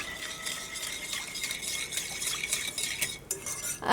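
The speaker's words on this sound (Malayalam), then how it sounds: "ഇത് എല്ലാം കൂടിയിട്ട് നമുക്കൊന്ന് മിക്സ് ചെയ്യാം" A spoon stirs yeast, sunflower oil and other ingredients together in a bowl, giving soft, close scraping and light clinks of utensil against the dish. It ends in a brief louder knock.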